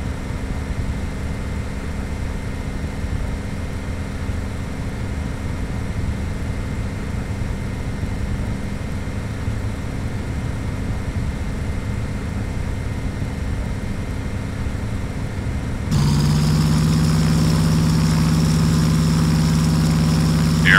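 A Brewster Navy carrier fighter's engine runs in a flight simulator, a steady low drone that holds for about sixteen seconds, then jumps louder and brighter with a rising tone as power comes up for the takeoff roll.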